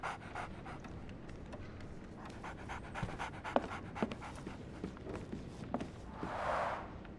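A dog pants steadily in the Sherlock Holmes: The Awakened video game, quick rhythmic breaths close by with a few soft footfall-like taps, then a brief louder burst near the end.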